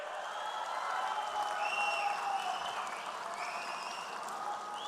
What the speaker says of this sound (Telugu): గట్టిగా చప్పట్లు కూడా చెప్పాలి